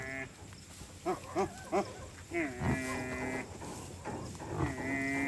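A pure Nili buffalo, a high-milking dairy animal, lows nearby in several drawn-out calls among shorter grunts, with faint voices and farmyard noise around it.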